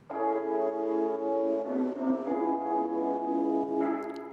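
A wet-only signal of sustained tones through a reverb set fully wet with strong compression, a dense, even wash of held chords that shifts pitch partway and stays level and close throughout.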